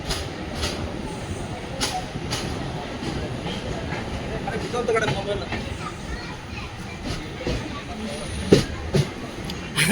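Panchaganga Express departing Udupi station, a steady rumbling train noise with hiss and faint wheel clatter running throughout, scattered clicks and a few sharper knocks near the end, with a voice talking over it.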